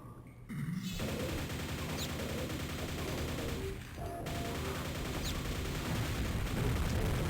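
Grenade explosion and rapid gunfire in the VitaQuake shooter game, a dense, loud continuous barrage of shots and blasts with a brief dip near the middle before the firing resumes.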